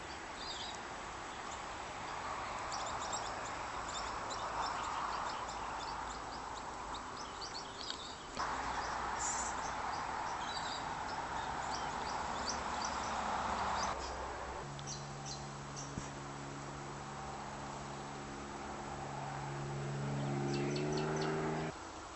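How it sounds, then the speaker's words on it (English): Birds call from wetlands beside a suburban road in Darwin, scattered faint chirps and tweets over a soft outdoor hum, with a few steady tonal calls appearing later on. "Can you hear those birds?"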